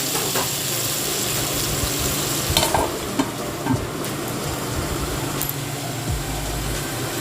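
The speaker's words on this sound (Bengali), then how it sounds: "বেশ লাল লাল করে ভেজে নেবো আলুগুলো" Potatoes frying in hot oil for a mutton curry give a steady, close sizzle that runs throughout, with a few brief clinks and stirring bumps over a low background hum.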